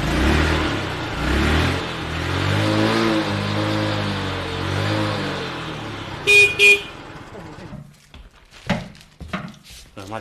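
A motorcycle engine in a home courtyard revs and falls in pitch for about six seconds, followed by two short horn-like toots and then faint voices.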